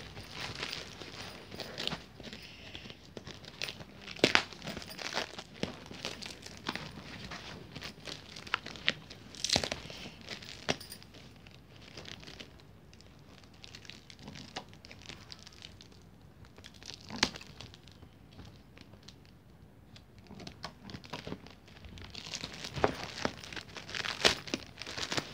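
Double-wrapped plastic packaging sealed with tape is handled and pulled open, giving intermittent crinkling, rustling and tearing bursts with occasional sharper crackles spread across a long stretch.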